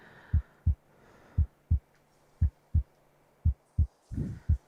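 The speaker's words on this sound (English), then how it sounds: "My heartbeat in my ears has stopped now." Heartbeat effect from a Quest 2 VR video game: paired low thumps pulse steadily and close in a lub-dub rhythm, about four double beats, over a faint hum with no talking.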